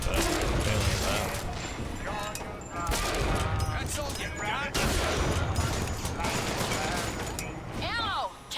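Gunfire in BioShock Infinite comes as dense bursts of shots and impacts in a combat fight, loud and continuous across the whole stretch, with voices and game sounds mixed in.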